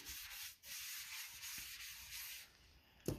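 Sandpaper rubs down CRE321 hybrid epoxy primer on a 1980 Suzuki GS750 motorcycle gas tank, making a close, steady back-and-forth scratchy hiss with a short dip near the start and a sharp knock at the end.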